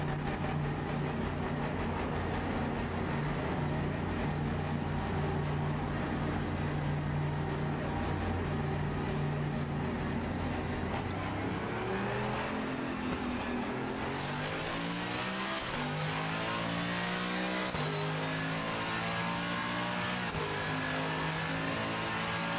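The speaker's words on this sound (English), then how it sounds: "here we start our car and we are off again" Sim racing car in a video game pulling out of the pits: a steady engine drone holds at first, then rises through repeated gear-change sweeps as the car accelerates away, loud and continuous with no talking.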